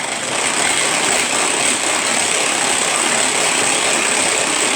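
A Speedy Chef kitchen food processor beating a mixture at speed 1, giving a steady, continuous motor whir with a high whine that stays constant and fairly loud throughout, with no voices.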